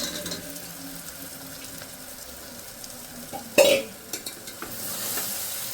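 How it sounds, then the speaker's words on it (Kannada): Mushrooms for a biryani fry in a pan with a soft, continuous sizzle, interrupted by a sudden loud clatter of stirring midway and a few lighter scrapes afterward. "ಇವಾಗ ಮಶ್ರೂಮ್ ಹಾಕ್ತಾ ಇದ್ದೀನಿ."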